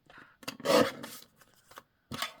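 Scissors trim a paper edge in a few short, close snips and rustles, separated by brief quiet gaps.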